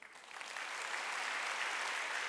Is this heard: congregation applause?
yes